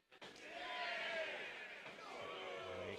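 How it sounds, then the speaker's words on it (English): A wrestling event crowd boos and cheers in a sustained, distant roar that swells and holds steady, with a voice heard faintly over it. "You can hear the boos and the yays of the crowd here"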